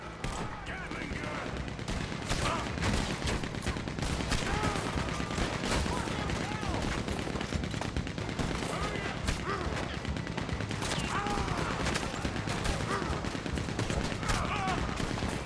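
Gunfire in Red Dead Redemption 2 during a bank shootout, rapid overlapping shots and bursts crackling continuously, mid-distance and steady in loudness, with some voices mixed in.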